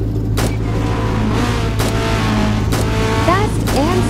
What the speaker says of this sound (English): This is the race car that is a game pass.